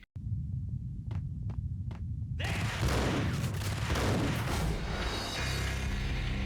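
An enemy's shotgun fires in Max Payne; a few faint clicks come first, then a loud, sudden blast bursts into a sustained, heavy roar of gunfire and rumbling noise.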